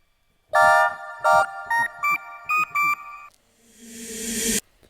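Plain 8-bit style synth lead with no arpeggiator, playing a handful of short sustained notes that step upward, followed by a rising airy noise swell.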